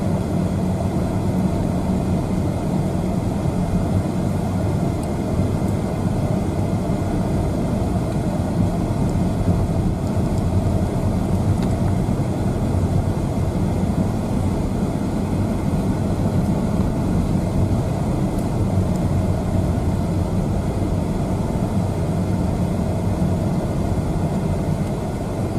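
A car drives along a snow-free road past snowy fields and forest, a continuous, even engine and tyre rumble with road noise throughout and no talk.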